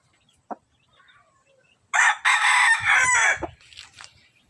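A gold future broodcock rooster with a straight comb and red face gives one short cluck, then a single loud, close crow with a ragged ending.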